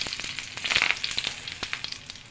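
Curry leaves frying in hot oil for radish chutney, a lively close crackle of spattering pops over a steady sizzle, with no talking.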